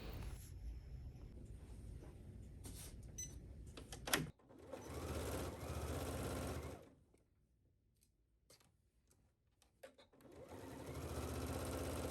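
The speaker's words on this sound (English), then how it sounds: "take your front bodice piece, and we are going to attach this at the shoulder seams" Sewing machine stitches the shoulder seams of a bodice, running in a loud steady whir, stopping briefly with small clicks and handling, then starting again.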